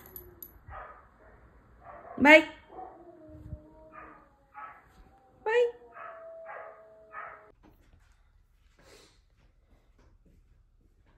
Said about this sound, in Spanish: Oigan todos los perros de los vecinos.